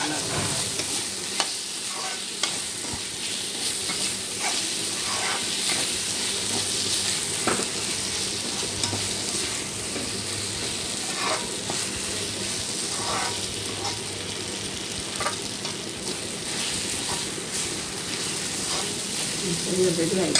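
A vegetable poriyal stir-fry of drumstick and brinjal sizzles steadily in a pan as a spoon scrapes and stirs it in short, repeated strokes, with quiet talk in the background.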